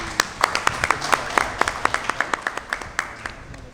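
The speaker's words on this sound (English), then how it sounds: "So I think we need a round of applause for NPP." Applause at a National People's Party scholarship award event for youth: a fairly sparse round of hand claps, individual sharp claps standing out at a steady rhythm over a low murmuring room, moderately close and not very loud.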